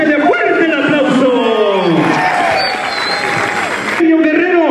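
Loud, sustained crowd applause and cheering fills a rodeo (jaripeo) arena in Colusa, with an announcer's voice calling over the top throughout.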